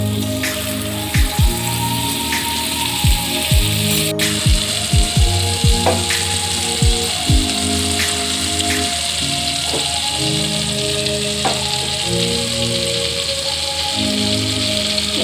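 A spoonful of butter sizzles in a hot kadai with a soft, steady crackling hiss under background music carrying a tonal melody and occasional swooping notes.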